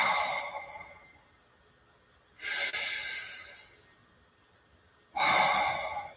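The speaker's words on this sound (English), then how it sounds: "And breathe." Slow, deep meditation breathing: three long, airy breaths spaced a couple of seconds apart, close and clear, with quiet pauses between them.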